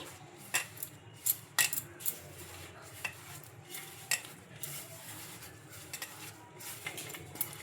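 A spoon scraping and tapping against a bowl as semolina batter is mixed with curd, repeated stirring strokes heard close and fairly quietly, without speech.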